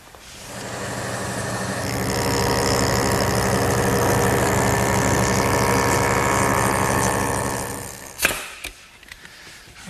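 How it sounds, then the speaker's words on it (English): A woodworking jointer bevels the back edge of a Shaker stool tread, a loud steady whirring cut that runs for several seconds before the motor winds down with a few clunks. "I have to bevel the back edge so that it'll fit tightly against the riser. And for that, once again, I'll turn to the joiner."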